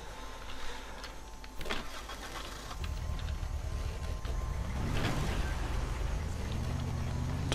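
Pickup truck driven through the video game Dead Island, its engine humming steadily and rising in pitch toward the end, with game effects and clatter layered over it.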